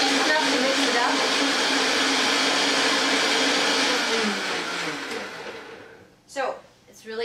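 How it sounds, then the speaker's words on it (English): A Vitamix blender blends almonds in a loud, steady roar that slows and winds down near the end, followed by a brief clatter and a voice. "Put that in my Vitamix, and I blend it up real fast."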